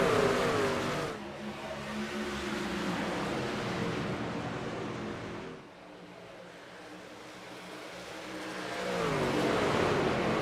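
A pack of race trucks in a sim racing game roars at a restart in Texas, engines swelling loud and close, dipping as the field passes, then building again into a strong rising drone.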